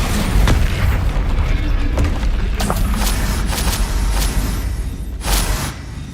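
A Bombarda blasting spell bursts in a wizarding video game, a deep booming explosion over dense low rumble, with sharp blast transients recurring through the stretch and a heavier hit near the end.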